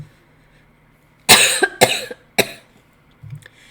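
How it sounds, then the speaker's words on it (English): Three sharp coughs in quick succession, close and loud, followed by a softer throat sound, with quiet room tone between. "I had to cough."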